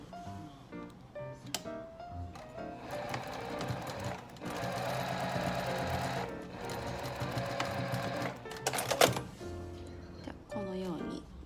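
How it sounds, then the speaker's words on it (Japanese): An overlock sewing machine stitching fabric for a smartphone pouch, a rapid whirring hum in bursts with clicks between runs, close by, under a person talking. "このようにロックミシンでの上を縫いました。"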